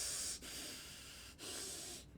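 A voice imitates the loud, heavy breathing of a Dead by Daylight killer: two long, hissing breaths with short pauses between them, close and breathy, with no other talk.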